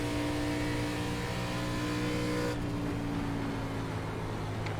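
A race car engine in the iRacing sim during an ARCA Menus-series oval race drones steadily at high revs, loud and continuous with a constant tonal hum, the pitch shifting slightly midway.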